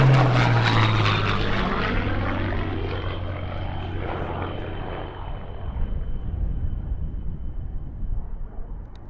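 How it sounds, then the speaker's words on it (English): A Supermarine Spitfire Mark 1A warbird flies aerobatics at an airshow at Duxford, its propeller engine roaring loudly and close at first, then fading away as the plane banks off into the distance. "in comes the Imperial War Museum's Spitfire Mark 1A N3200 for a sublime"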